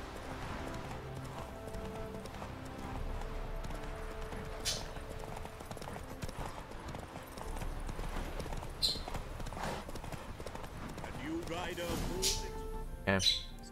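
Roach the horse gallops in a race in The Witcher 3, hooves clip-clopping steadily under music and game ambience, with a brief whinny-like burst near the end.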